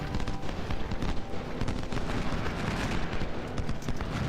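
Massed musket volleys and cannon fire from an Ultimate General battle at Kettle Run roll on continuously, a crackling, booming barrage of overlapping shots with no pauses.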